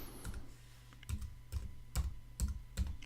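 A computer keyboard being typed on, with a few distinct keystroke clusters spaced about half a second apart, close and fairly quiet with no talking.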